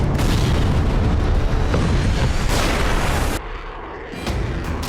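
A long-range land attack cruise missile test-launched from a mobile articulated launcher on the Odisha coast, a loud sustained booming roar that fills the first three seconds, then drops and partly trails off.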